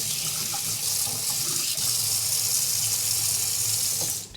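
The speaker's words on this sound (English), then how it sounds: "Do the same thing, gonna rinse this off." Kitchen tap water runs steadily into a sink, a continuous close hiss that holds for about four seconds before cutting off as the faucet is shut.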